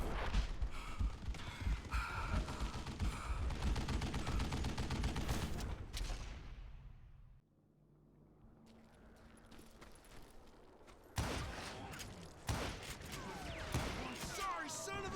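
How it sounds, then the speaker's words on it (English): Rapid gunfire from a Gatling gun in the Western shooter Call of Juarez: Gunslinger, a dense sustained barrage that drops away into a quieter lull and then resumes with sharp shots and someone shouting over it. "Kid Curry opened up on me with a goddamn Gatling gun."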